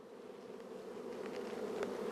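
Honeybees buzz around an opened hive during a spring inspection, a faint, steady hum with a few brief louder buzzes as single bees pass close, with no voices.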